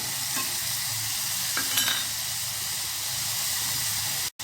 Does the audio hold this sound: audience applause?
no